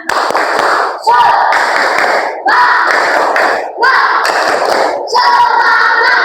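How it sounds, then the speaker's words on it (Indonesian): Primary school pupils in a classroom shout a rhythmic clapping chant together in loud, repeated bursts, each burst of voices and claps separated by brief pauses. "kita tepuk semangat lagi biar semangat ya"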